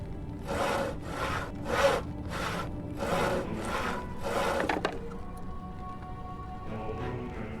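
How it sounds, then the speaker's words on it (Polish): Saw cutting through old, worn boots in the adventure video game Yesterday Origins: six rhythmic rasping strokes, close and evenly spaced, then faint clatter and a low tone. "Użyjmy na nich piły."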